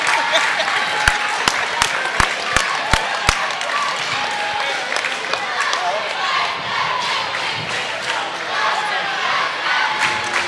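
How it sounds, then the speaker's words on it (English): A crowd at a high school boys' basketball game rises in a standing ovation, with sharp close claps up front and a loud, sustained roar of cheering and clapping throughout. "Standing ovation for all 5 guys, especially for McClure"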